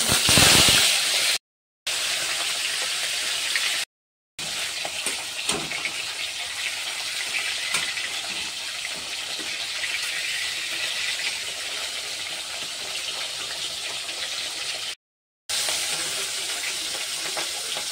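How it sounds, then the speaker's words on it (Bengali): Hilsa fish fries in hot oil in a wok, a continuous bright sizzle that holds steady throughout, close and fairly loud, with a few brief cuts of silence. "মাছটা ভাজা হয়ে গেছে"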